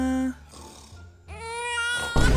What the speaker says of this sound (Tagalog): Baby, stop crying na.